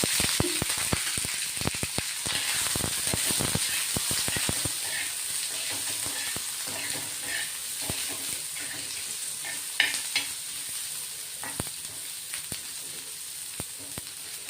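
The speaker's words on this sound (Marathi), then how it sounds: "तेल टाकल्याने पटकन भाजला जातो आपला कांदा" Chopped onion fries in hot oil in a home kitchen pan, a steady close sizzle running throughout, broken by frequent sharp scrapes and clacks of a stirring utensil that thin out after the first few seconds.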